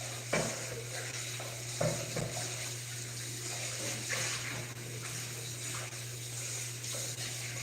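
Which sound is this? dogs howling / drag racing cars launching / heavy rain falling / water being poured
water being poured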